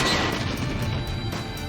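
A Toad Blade Cut attack in the Naruto X Boruto Storm Connections video game, swung during a boss fight, produces a loud crashing impact with ringing metallic overtones that holds steady and fades slightly across under two seconds.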